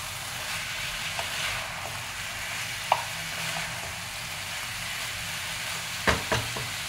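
Chicken with spices and slit green chillies sautéed in a pan, a steady moderate sizzle with occasional clinks of a spatula against the pan.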